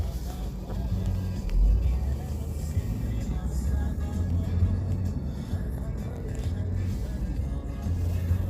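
A GAZelle van pulls away on a village road, its engine a steady low rumble that holds throughout, with faint voices nearby.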